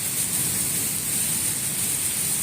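Heavy storm rain in Chak No. 45 SB near Sargodha pours down as a steady, dense hiss with no pauses, loud and close, with no voices over it.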